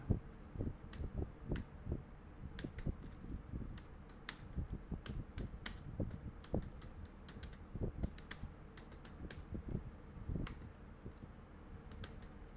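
Someone types code on a computer keyboard in steady, uneven bursts of close, crisp keystrokes, with no one speaking.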